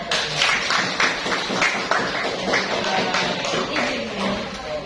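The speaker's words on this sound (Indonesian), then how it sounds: "Boy, tepuk tangan." Children clapping together in a classroom, a busy patter of small hands with scattered voices mixed in, moderately loud and close.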